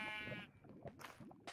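Sheep bleating in the Minecraft video game, a single wavering, harmonic bleat up front followed by short game sound effects and soft clicks.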